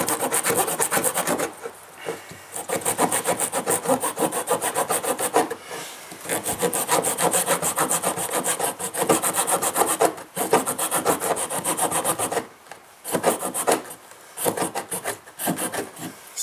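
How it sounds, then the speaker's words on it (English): A Leatherman Blast backpacking saw cutting through wood, with steady back-and-forth rasping strokes that run nearly continuously and pause briefly now and then, close and loud with no voices. "So there's a Leatherman blast saw"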